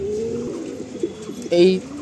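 Pigeon cooing from an active young bird held for sale, soft low coos repeating near the listener, with a stronger call near the end over faint background noise and some murmured talk.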